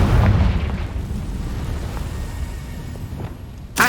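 A Confringo blasting spell in Hogwarts Legacy sets off a loud, booming explosion at the start that rumbles and decays over a few seconds, followed by a short sharp burst at the very end.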